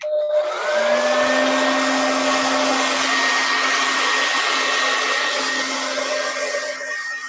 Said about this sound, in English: I don't know if you can hear the blow dryer